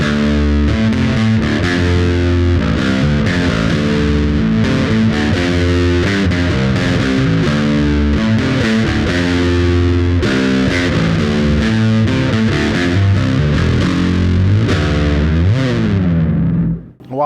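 Fender Mike Kerr Jaguar bass played through an overdrive effect, a thick distorted tone with steady, driving notes and chords, loud and continuous before cutting off at the end.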